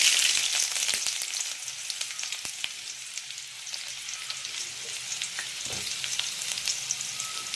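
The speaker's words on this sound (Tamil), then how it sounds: "இந்த டைமில் நம்ம கட் பண்ணி வச்சுருக்கிற வெங்காயத்தை போட்டுடலாம்." Chopped onions hit hot oil with cumin seeds in a pan for lemon rice, giving a loud, close, crackling sizzle that holds steady with occasional stirring taps.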